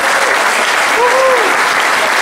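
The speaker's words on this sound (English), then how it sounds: "please give him a round of applause" An audience applauds a panel guest at a talk on refugees, with steady, dense clapping from a crowd that fills the room throughout.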